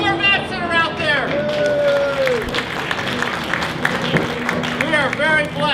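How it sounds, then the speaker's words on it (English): Crowd clapping and cheering at the 12 Hours of Sebring race for the Corvette team, a moderate burst of applause heard under an amplified announcer talking. "How about a round of applause for the Corvettes that are out there?"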